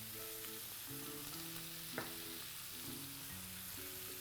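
Food sautés in a pan with tomato, black pepper and salt, giving a steady close sizzle and frying crackle throughout, with a sharp clink of a utensil against the pan partway through.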